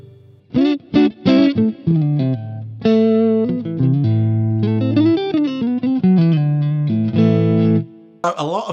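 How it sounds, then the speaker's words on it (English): Clean electric guitar through a Boss MS3 set to plain, unmodulated reverb: short strummed chords and picked notes with gaps between phrases, close and loud, each note trailing into a smooth decay. "If I turn that back, I just go to my straight reverb from there."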